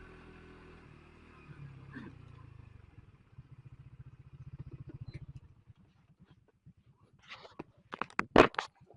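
A Suzuki GSX R150 motorcycle engine rumbles and revs on a mountain road, a low pulsing drone that fades, followed by sharp clattering bursts near the end.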